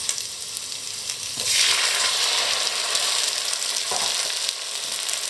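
Meatballs frying in a pan sizzle steadily, the hiss swelling loudly as tomato is dropped in, with a brief stir scrape near the end.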